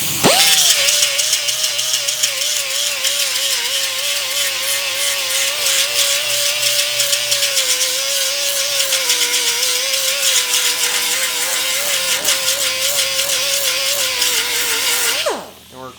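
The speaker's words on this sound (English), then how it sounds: "our angle grinder here." Angle grinder cross-cutting metal on a dented panel, a loud, steady high-pitched whine with harsh grinding hiss running continuously for about fifteen seconds before spinning down at the end.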